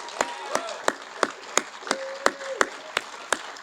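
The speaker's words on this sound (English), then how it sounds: "Let's give a round of applause to all 6 candidates here tonight." A small audience at a political debate claps for the candidates in sparse, distinct strikes, roughly three per second, fairly close and unhurried, with a brief tonal whistle or voice in the background.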